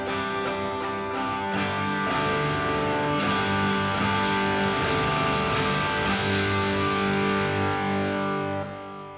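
Electric guitar played through a pedal giving a light distortion, strummed chords ringing continuously and fairly loud for about nine seconds with steady sustained tone, no talking.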